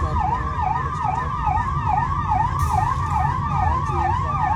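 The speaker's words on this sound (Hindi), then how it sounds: "और बहुत ही इफेक्टिवली सिर्फ 3 मिनट के अंदर एम्बुलेंस पहुँच गई" Ambulance siren wailing in a fast, repeating up-and-down pattern, loud and close over heavy road rumble, with no talking.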